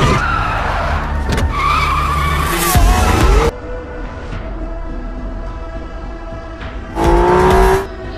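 A car driven at high speed through a chase, fleeing thugs: loud, close tire squeals and skids in sharp bursts over a roaring engine, with a brief quieter stretch before another screech.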